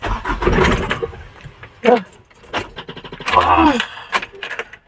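A Canter truck's engine is cranked over with the key and catches, with bursts of starter churn and engine noise while people talk nearby.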